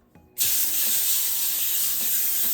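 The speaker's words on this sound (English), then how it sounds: "Canola oil nonstick spray." A sudden, steady hiss of canola oil nonstick cooking spray starts after a click and continues loud and unbroken for about two seconds.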